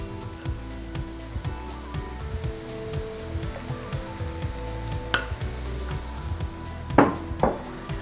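Parboiled rice goes into a pan and is stirred for seafood fried rice, with a steady sizzle under repeated scraping and clinks of a utensil against the pan, a few sharper knocks near the end.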